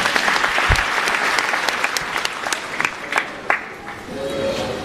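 A church congregation applauds in a lively burst of clapping that fills the room and stays steady for several seconds before thinning out.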